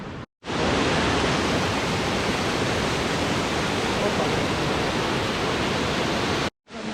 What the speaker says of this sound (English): So we're now at the highest waterfall in Croatia, the Great Waterfall.